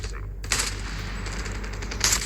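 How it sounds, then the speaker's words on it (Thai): Call of Duty Mobile gunfire, a fast rattling burst of automatic shots over a low hum, with a couple of sharper louder cracks and no voices. "ยิงกันเดือดเลยนะเธอ"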